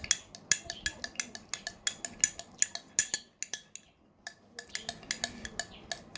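A metal spoon works through honey in a dish, giving a quick run of sharp clinks and taps against the bowl, briefly pausing midway before resuming, close and crisp.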